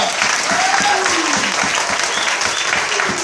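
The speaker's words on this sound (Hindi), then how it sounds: "एक अच्छी ताली जोर से यीशु के लिए" A church congregation claps loudly and steadily for Jesus, a dense wash of applause with cheering voices mixed in throughout.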